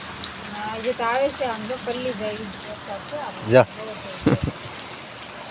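Steady rain hisses in the background while people talk loudly and close by over it.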